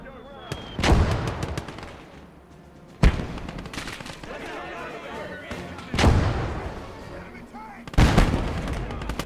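Heavy artillery blasts in the Gates of Hell World War II strategy game, including an 8 cm shell, land in four separate booming impacts, each with a long rumbling tail and crackling debris.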